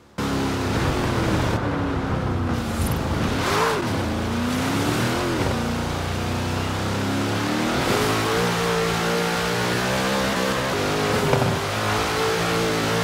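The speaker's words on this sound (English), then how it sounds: "I'm going to shut up for a minute so you can listen to what this car sounds like." Koenigsegg CC8S supercar engine in Forza Horizon 4, a loud continuous roar that rises and falls through gear changes and revs, heard close and alone without talk.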